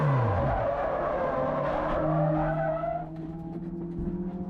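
Race car spinning out during a racing championship event, tires squealing and skidding over a rising and falling engine roar, with the squeal fading into a steadier engine note near the end.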